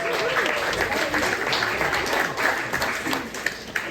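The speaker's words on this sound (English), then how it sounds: "let's have a big round of applause for Aurora coming on stage" A concert audience at a Burns Night show claps for a Highland dancer taking the stage, a full, close round of applause that holds steady for several seconds and thins slightly near the end.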